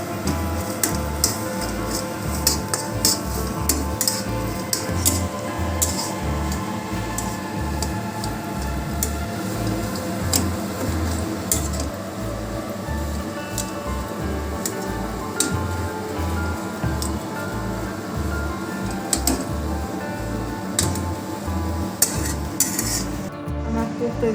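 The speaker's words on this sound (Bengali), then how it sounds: "ভালো করে সব মিক্স করে নিতে হবে।" Samosa filling ingredients are stirred and mixed in a bowl or pan, a steady run of scraping, clinking utensil strokes that repeats rhythmically throughout at close range.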